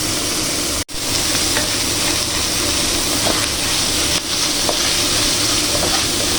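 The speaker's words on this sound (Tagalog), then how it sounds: "halo-haloin lang natin guys, hanggang sa magisa ang ating giniling, ang ating minced pork" Minced pork sizzles and crackles loudly in a hot pan as it is stirred and sautéed, a dense continuous frying hiss with a brief break near the start and scraping touches.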